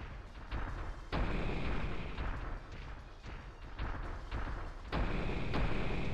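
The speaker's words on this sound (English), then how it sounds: "All of these explosion and they do nothing." Repeated explosions rumble through a city being crushed in the video game HimeDeka 3, with a giant schoolgirl stomping through town; dense, continuous loud booms with sharp bursts at the start, middle and end and no talk.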